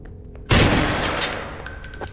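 Gunfire from a terrorist in a horror video game, a sudden loud burst of rapid automatic shots that sets off abruptly and rattles on in a sustained close fusillade.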